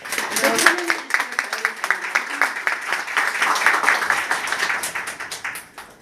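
Audience clapping to welcome a product presenter at a business seminar, a short burst of applause mixed with a voice speaking over it.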